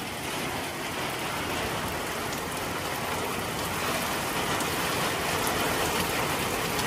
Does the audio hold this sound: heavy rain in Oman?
yes